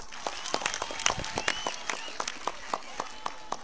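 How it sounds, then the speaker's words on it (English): Classroom audience clapping for a student who answered a question. Sharp, separate claps fall in a loose rhythm from a small group, fairly close. "Clap for her."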